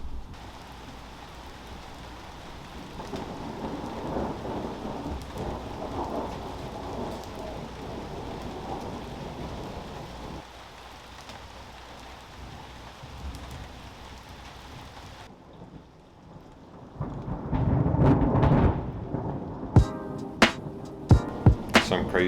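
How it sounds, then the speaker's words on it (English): A heavy storm outside a workshop brings steady rain, with a low rolling rumble of thunder under it. Later the sound grows louder and closer, broken by a few sharp knocks nearby. "Some crazy thunder down under."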